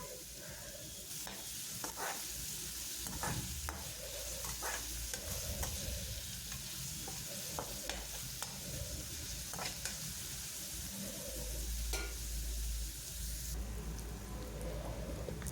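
Vegetables for chicken fried rice sizzle steadily in a hot pan, with repeated spatula stirs and scrapes in a continuous, even texture and no talking.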